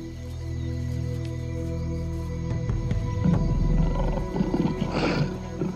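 A wild lion roars in African bush country, a deep, loud, rumbling call that swells after a quieter opening and peaks around the middle before tailing off, alone without any voices.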